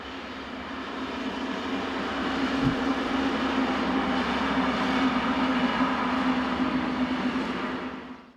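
Rail Cargo Carrier locomotive 203115 heads east dragging Austrian electric 1116037, a steady diesel engine drone with a strong low hum and rolling rumble that swells as it passes close, then fades at the end.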